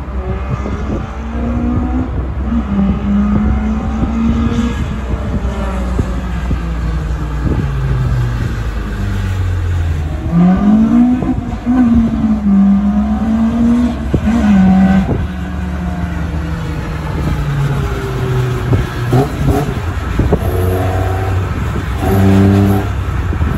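Stock 4AGE 20V silver top engine in a Toyota Corolla AE92 revving repeatedly, the pitch climbing and falling in several loud close sweeps, with no talk over it.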